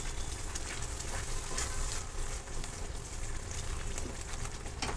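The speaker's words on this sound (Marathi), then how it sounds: "आता आपण ही जी पालकची प्युरी आहे ती टाकून घेणार आहोत. तर आपण व्यवस्थित मिक्स करून घेणार आहोत." Spinach puree goes into a sizzling masala in a pan and is stirred in, giving a steady, dense frying hiss with faint scraping of the spoon throughout.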